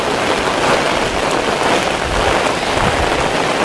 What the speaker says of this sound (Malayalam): ഇതുണ്ടോ, നല്ല മഴയുണ്ട്